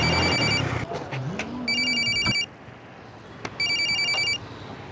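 A telephone rings in short bursts of electronic bell tones with gaps between them, heard over a background of passing traffic and a vehicle engine.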